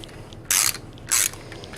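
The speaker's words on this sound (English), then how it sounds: "These are getting torqued to 40 pounds." Torque wrench ratcheting bolts on a Lambretta scooter's front disc brake, two short bursts of close, loud clicking about half a second apart.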